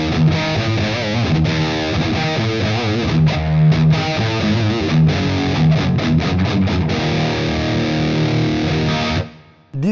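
Electric guitar played through a small mini amplifier with heavy, saturated distortion, loud sustained chords and riffs with brief choppy stops, cutting out abruptly just before the end.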